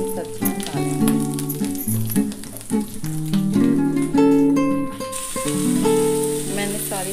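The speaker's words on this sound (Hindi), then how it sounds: "अब हम इसमें अपनी सारी कटी हुई सब्जी डालेंगे।" Chopped vegetables for spring rolls sizzle and fry in a hot pan with a steady crackling hiss, partly masked by prominent melodic background music.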